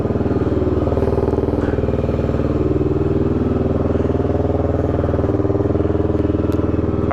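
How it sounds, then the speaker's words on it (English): A 1990 Honda GB500TT Tourist Trophy single-cylinder motorcycle idles loudly indoors just after starting, a steady close thumping engine beat with mechanical clatter running throughout. "Let's see what happens when we start it up. I tried to tell you it was loud."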